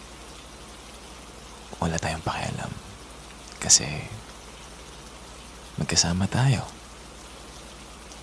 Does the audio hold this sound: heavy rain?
yes